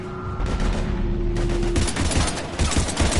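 Heavy automatic gunfire in the Mass Effect 3 video game, dense overlapping bursts and booming shots filling a short combat stretch, loud and continuous with a sustained tone early on.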